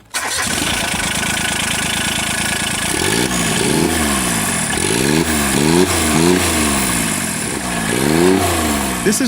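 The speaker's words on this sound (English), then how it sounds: "This is the 2004 John Deere Gator, equipped with a Yanmar turbo diesel engine, compact yet powerful." A 2004 John Deere Gator with a Yanmar turbo diesel engine cranks and catches, then settles into a chugging run with several rising and falling revs, loud and close without any talking.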